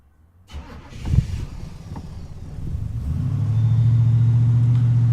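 An old 1936 Plymouth Roadster engine cranks and catches from cold, sputtering roughly at first before settling into a loud, steady low idle that builds and holds.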